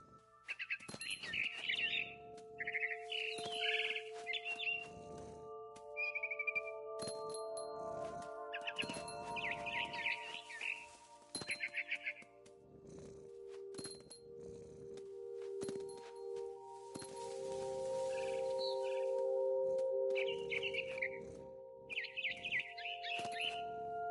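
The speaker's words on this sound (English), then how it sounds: "Then I heard chirping outside my window. It was a barn swallow going back to her nest." Barn swallow chirps repeatedly outside a window near its nest, bright short twitters in bursts over a steady background hum, fairly close and clear with no talking.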